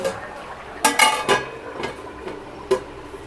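A lid is set over a cooking pot of pumpkin and rice hotchpotch simmering on a medium-low flame, giving a few sharp metallic clinks and knocks close by, with a final clink after a short pause.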